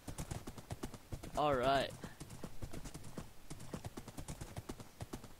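Rapid, steady clip-clop of horse hooves galloping in a video game, running loudly through the whole stretch, with a brief horse whinny and someone talking over it.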